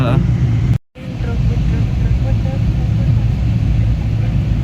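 Trucks in a traffic jam on a single-lane road, a continuous low rumble of idling and slowly moving heavy engines, with someone talking throughout and a brief dropout early on.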